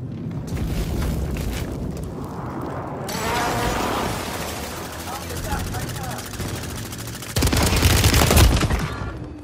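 Gunfire in a Call of Duty Warzone match on Rebirth Island, with bursts and booms layered over continuous game noise and shouted voices, growing louder and denser near the end.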